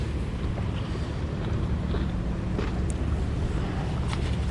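Wind blowing during street fishing for perch, a loud continuous rush and buffeting against the microphone, steady for the whole stretch with no voices.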